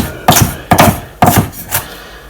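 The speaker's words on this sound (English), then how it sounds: "the chilies I'm just going to roughly chop because they don't need to be very fine" A knife roughly chopping fresh chilies on a board for Thai green curry paste: four distinct, loud chops spaced about half a second apart, with no talking.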